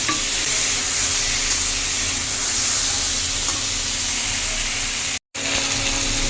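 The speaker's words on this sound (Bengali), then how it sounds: "আলু হালকা ভাজা হয়ে গেছে, এর মধ্যে এখন টমেটোটা দিয়ে দেবো।" Tomato goes into a pan of lightly fried potatoes and sets off a steady, loud, close sizzle with stirring that continues without a break, apart from one brief dropout near the end.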